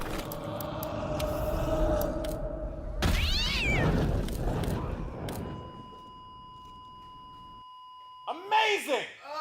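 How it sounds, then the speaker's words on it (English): Palico cat companion in Monster Hunter World meowing a few times near the end, after loud game noise, crashes and talking fade out. "Get that cat out of here!"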